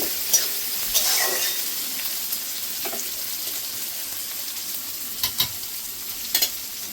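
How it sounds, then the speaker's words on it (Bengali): Onions with a tomato and curry leaves fry in a pan for sambar, giving a steady sizzle with a few sharp spatula scrapes and clicks of stirring, close and without talk. "পেঁয়াজ ভাজার সময় আমি একটা টমেটো দিয়ে দিয়েছি"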